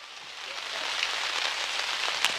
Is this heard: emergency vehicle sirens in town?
no